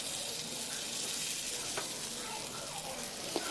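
Thick vegetable dosa batter, poured like uttapam, cooks on a pan with a soft, even hiss of sizzling throughout and a couple of faint ticks.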